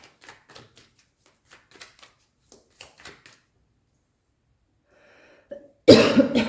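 A single loud cough bursts out near the end, close to the microphone, following a quiet stretch of soft tapping and shuffling like cards being handled during a tarot reading.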